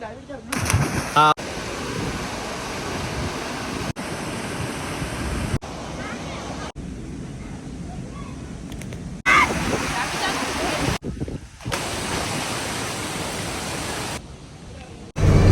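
Steady rushing water of the Ayiroor river, a small river in southern Kerala, flows continuously, broken by a few abrupt cuts, with a voice speaking over it.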